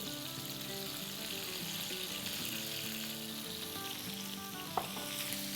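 Oil heats in a pot over a high flame, giving a steady, faint sizzle with one brief knock near the end, over soft background music.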